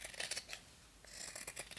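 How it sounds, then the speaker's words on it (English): Scissors snip through fabric, trimming the seam allowance while sewing a small lined reindeer pouch; several quick, close cuts come in two bursts separated by a brief pause, with no talking. "next you can take scissors and again trim the seam allowance by half."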